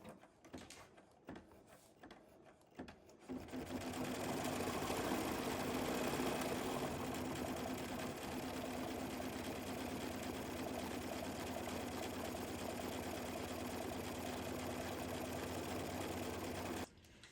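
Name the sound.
embroidery sewing machine stitching satin cover stitch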